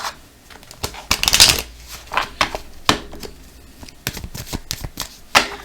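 A deck of oracle cards is shuffled and cut by hand in a quiet room, giving a run of crisp riffling flutters and sharp slaps that come in irregular bursts, with no one talking.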